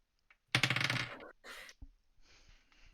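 Dice are rolled onto a table during a tabletop role-playing game, a sharp burst of clattering taps followed by a few lighter rattles as they settle.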